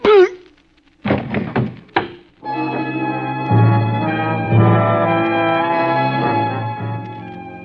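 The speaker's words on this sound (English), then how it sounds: "Gun butts make a funny sound hitting a man's head." Dull thuds of a gun butt striking a man's head, an old-time radio drama sound effect, land as two or three blunt knocks before music swells in and carries on underneath.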